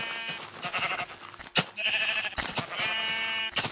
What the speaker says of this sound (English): I didn't know it was a sheep